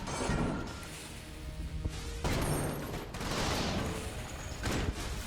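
A heavy cannon fires during a boss fight in the video game Enter the Gungeon, producing loud, continuous booming blasts and crashing impacts that overlap in a dense barrage.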